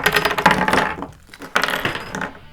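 Small plastic mounts and accessories for an Eken H9 action camera tumble out of their box, a dense, close rattling clatter lasting about a second, then a short pause and a second burst of clinking pieces, with no talking.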